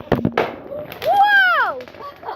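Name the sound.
fireworks going off on bonfire night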